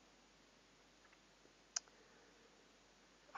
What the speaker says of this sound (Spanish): Hacemos clic sobre precio único